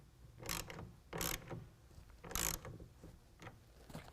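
Ratchet wrench tightening a rail clamp on a TruXedo Sentry tonneau cover fitted to a 2019 Chevy/GMC 1500 pickup bed, heard as several short bursts of metallic ratcheting clicks with pauses between strokes, close up and no talking.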